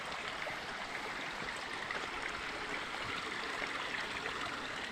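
River water flowing steadily at a spot where people go to swim, a continuous broadband rush close by with no talk over it.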